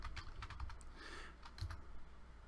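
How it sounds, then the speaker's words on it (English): Someone types on a computer keyboard, a quick, quiet patter of close key clicks running steadily through the short stretch. "I'm going to double click to highlight, and I'm going to type my name in"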